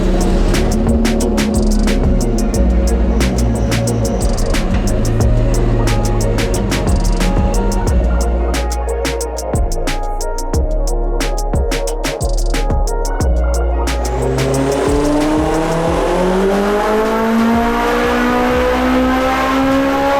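A turbocharged Acura RSX, front-wheel drive, makes a sustained full-throttle pull on a dyno at 6 pounds of boost, engine note climbing steadily and loudly through the gears with a rising whine, no talking.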